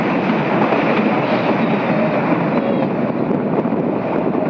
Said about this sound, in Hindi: ये देखिए लहराती हुई बल खाती हुई हमारी ट्रेन आगे की तरफ बढ़ते हुए